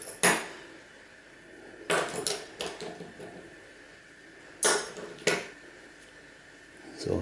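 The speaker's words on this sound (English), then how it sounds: "Reach over and get some more screwdrivers that I've left aside." Metal screwdrivers are picked up, set down and rattle against a hard work surface while small screws are taken out of vintage 1980s cameras, giving a few sharp, close clinks and clatters with quiet gaps between them.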